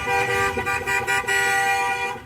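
Mail trucks from the Tequesta post office honking their horns as they drive past in a rolling tribute, several loud, close toots and sustained blasts overlapping over passing engine noise.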